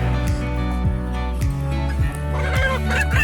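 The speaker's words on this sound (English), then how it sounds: "here is a chicken" Chickens cluck and gobble loudly at close range around a coop, a dense run of repeated calls with overlapping pitched clucks that continue throughout.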